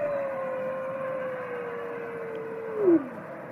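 A long, steady howl holds one sustained tone before bending downward and swelling briefly at the end, carried over a low background hum with no talking.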